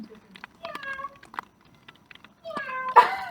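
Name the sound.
cat meowing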